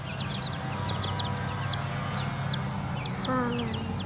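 A backyard chicken, calm while small children hold it and rub its belly, gives soft repeated clucks and short calls over a steady background hum, with no clear talking.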